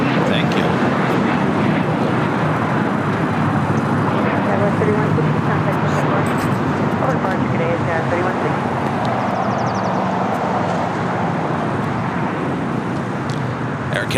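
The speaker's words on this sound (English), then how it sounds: "Air Canada on flight 785 coming in from Toronto in the A321 and now about to cross over 25 right." An Air Canada Airbus A321 jet coming in to land at LAX, a steady broadband roar of engine and air noise sustained throughout, loud and close, with a faint voice now and then underneath.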